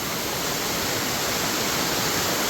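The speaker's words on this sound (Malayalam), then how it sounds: "ഇതാണ് നമ്മുടെ ചോലയിലെ വെള്ളച്ചാട്ടം" A small waterfall in a woodland stream rushes in a dense, even roar that stays close and constant, with no voices.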